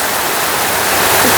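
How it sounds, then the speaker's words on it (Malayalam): Heavy rain pours in a loud, continuous hiss, an even dense roar with no breaks and no talking. "ഭയങ്കര മഴ"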